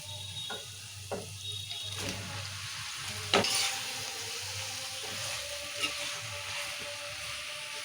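Marinated chicken hits a hot pan for a chicken curry, giving a steady close sizzle with a few sharp clinks and stirring scrapes, and no talking.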